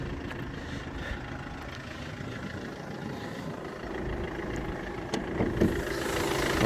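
A Mercedes-Benz E220 diesel engine idles with a steady, low, even rumble and no speech, growing slightly louder toward the end with a few faint knocks.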